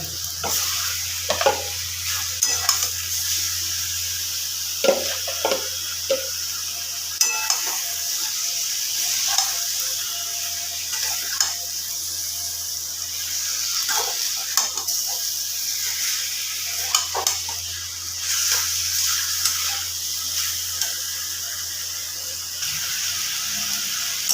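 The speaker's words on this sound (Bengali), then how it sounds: "এবার দিয়ে দেব আমি ম্যারিনেট করা মাংসটা" Marinated chicken for Kashmiri chicken fries in a pan with a constant close sizzle, broken by repeated scraping clicks as a spoon stirs the meat.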